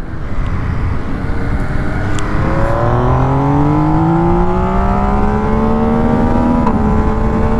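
An MV Agusta 800 Dragster motorcycle accelerates hard, its engine note climbing steadily through the revs in a loud, close, continuous roar, with a brief exclamation from a rider.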